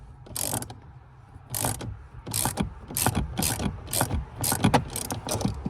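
A ratchet clicks in repeated bursts while tightening a part on a car, about nine evenly spaced strokes of rapid pawl clicking, close and clear with no talk.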